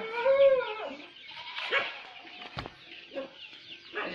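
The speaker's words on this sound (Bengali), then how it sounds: "এর পাশে আমার মেন শেড আছে, মেন শেডে মুরগি আছে।" Desi chickens in a poultry shed, a hen's drawn-out cluck near at the start, then faint scattered clucks and shuffling, with a sharp knock midway; fairly quiet overall.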